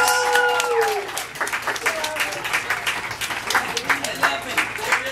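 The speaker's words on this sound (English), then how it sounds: "How about a big round of applause for the Cowboys, the Tweetsie Tribe, and Trooper Boggs." Crowd applause and cheering at a Wild West train robbery show at Fort Boone, Tweetsie Railroad, sustained clapping from an outdoor audience with a voice talking over it at points.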